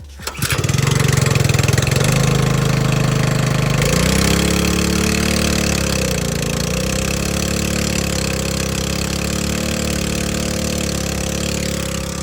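Small gas engine on a Cheap Shot concrete sprayer, choke on and throttle about halfway, catches and settles into a loud, steady idle that wavers slightly in pitch before running smoothly and continuously, with no talk over it.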